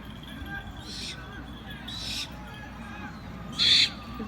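An owl at a Renaissance festival birds of prey demonstration gives three short, raspy hissing screeches spaced about a second apart, the last one loudest, over a low murmur of crowd noise.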